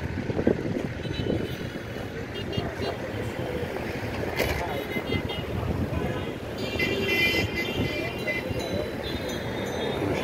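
Fishing boat on the sea off Alexandria, with divers around it: steady wind and water rumble with boat and sea noise throughout, some muffled talk in the background.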